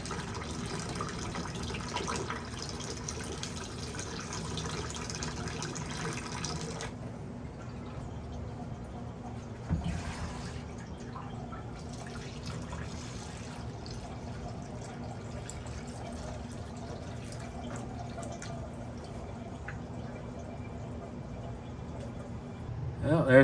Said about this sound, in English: I'm gonna dump out the metal rescue that's in here